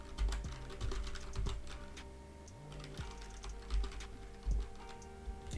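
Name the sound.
typing code on a computer keyboard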